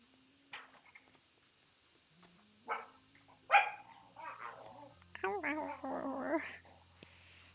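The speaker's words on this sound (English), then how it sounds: "That's my dogs." Dogs barking and yelping indoors in a few short, sharp bursts, with whiny, vocal growl-like sounds toward the end, over a game's quiet background tones.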